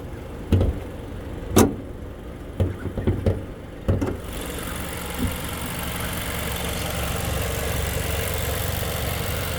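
Steady low engine rumble of an idling 2022 Mazda CX-9 Azami FWD with a 2.5-litre turbo engine, preceded by a few sharp clicks and knocks, then a constant hum continuing close by.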